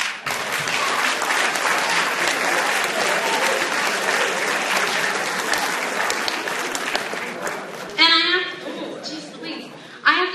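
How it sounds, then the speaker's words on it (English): Students at a high school prom assembly applaud in a large hall, a dense, steady wash of clapping that thins out toward the end as a person begins speaking over the last scattered claps. "And I think that deserves a round of applause."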